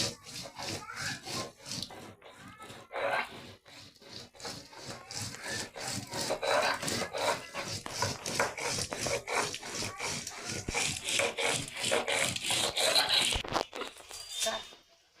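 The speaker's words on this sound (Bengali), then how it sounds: "তো এই যে আদা কাটছি" A knife cuts ginger in a home kitchen with quick, rhythmic rasping strokes that run steadily for about fifteen seconds, close and moderately loud, ending in a brief pause.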